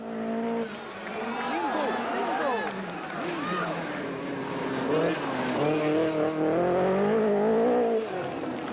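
Rally cars including Audi Quattros and Lancias race at the 1983 Portugal Rally, engines droning and shifting pitch in a continuous mid-distance roar beneath a steady commentary voice.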